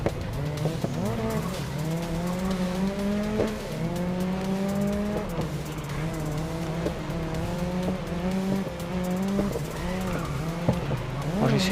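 Race cars in the GRID Legends video game roar through a sustained run, with rising and falling engine whine, gear shifts and repeated tire squeals as the cars slide through corners, loud and continuous.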